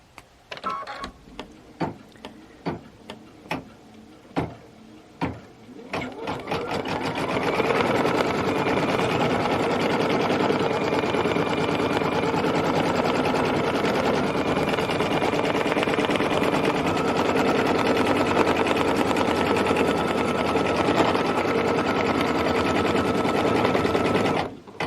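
An embroidery sewing machine stitching out a design: a few spaced mechanical thumps at first, then a loud, steady, fast rhythmic whirring hum of stitching that runs on continuously, close up and without talk.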